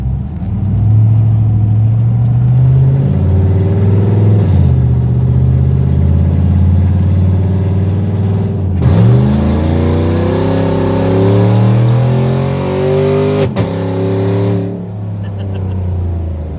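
A 1996 Impala SS with a Gen V engine swap revs hard with its exhaust valves switched open, a deep throaty roar that climbs and falls in repeated loud blips close by, settling back to a rumbling idle between pulls.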